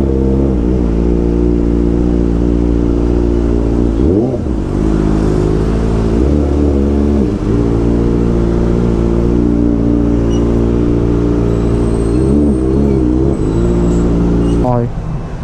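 A Kawasaki Ninja ZX4RR motorcycle idles and revs close by with a steady engine drone. Short throttle blips rise and fall in pitch throughout, and the last one comes near the end. No one speaks over it.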